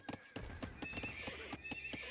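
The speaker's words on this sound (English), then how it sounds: "we've got the horses coming in now" Horses in a medieval strategy game whinny amid steady clip-clopping hooves, a busy layered stream of game sound effects with a faint voice underneath.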